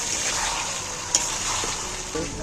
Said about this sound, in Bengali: এবার টক দইটা দিয়ে এবার আমি নাড়াচাড়া করতে থাকবো কষাতে থাকবো